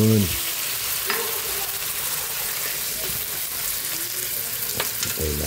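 Shrimp frying in butter and garlic in a pan, with a splash of Sprite, gives a steady loud sizzle with occasional stirring clatters and brief bursts of speech at the start and end.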